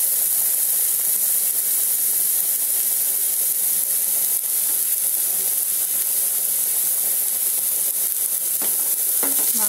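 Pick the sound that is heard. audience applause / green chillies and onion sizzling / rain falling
green chillies and onion sizzling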